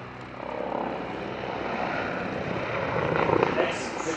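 Turkish T129 ATAK attack helicopter flying at an air display, a steady continuous engine and rotor roar that swells slightly toward the end, with a voice talking over it.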